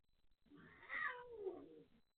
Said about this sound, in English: These cats are driving me crazy today.